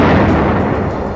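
Building in Gaza blown up with explosives, a loud dense roaring blast rumble filling the whole second with no pause, close and alone.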